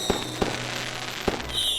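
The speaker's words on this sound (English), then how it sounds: "why are fireworks different colors?" Fireworks bursting in a night display, three sharp booms spaced unevenly over a steady crackling rumble, fairly close, with no talk.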